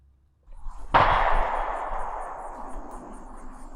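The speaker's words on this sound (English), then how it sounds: "A gunshot." A single sharp gunshot cracks out and rings off into a long fading echo, with quiet rumbling beforehand.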